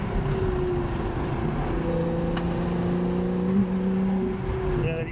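A Lotus Evora engine revs steadily upward, its tone climbing with a whirring intake sucking noise, heard close and continuous from inside the car.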